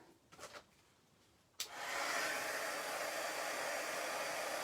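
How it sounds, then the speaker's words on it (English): A hair dryer switches on with a click after a few faint rustles and blows steadily and loudly, drying stamped ink on a card during a paper-crafting demonstration. "I should probably give it another blow dry."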